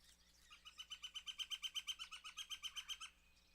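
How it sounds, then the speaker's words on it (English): Sparrows chirp in a fast, even run of about twenty bright repeated notes, faint and somewhat distant against a quiet background with no talk. "That was the sparrows."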